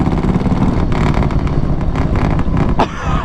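Harley-Davidson Softail M8 motorcycle fitted with Bassani True Duals exhaust rumbles loudly and steadily nearby, a deep continuous engine drone with a brief change near the end.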